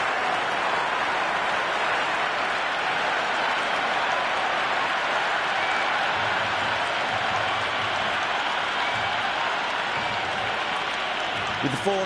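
Steady stadium crowd roar and applause in a cricket video game T20 match between India and England, a broad continuous wash of noise that holds level throughout, with commentary talking over it.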